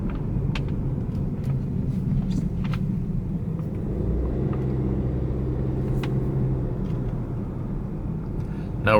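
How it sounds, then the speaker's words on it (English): A 2020 Audi Q3 driving slowly around a lot, heard from inside the cabin as a steady low engine and road rumble with soft mechanical clicks, continuous throughout and fairly loud. "I'll take this for a short drive around the lot just so you can see what it's like."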